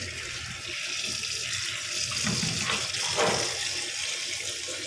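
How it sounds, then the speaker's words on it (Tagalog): Water from a tap runs into a freshly unclogged kitchen sink and drains freely, a steady close rushing splash that swells slightly midway and carries on without talk. "Dumiretso na yung tubig. Yan yung patunay na wala na siyang bara."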